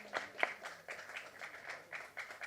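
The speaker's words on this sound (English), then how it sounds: "Let's give a round of applause for Kushal Kulkarni." A faint round of clapping from an audience at a live event welcomes Kushal Kulkarni, a short burst of scattered claps that sounds distant.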